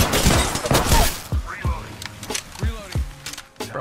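Gunfire in the Apex Legends video game: sharp, loud shots in quick bursts that break into separate cracks and thuds, with someone talking over parts of the firefight.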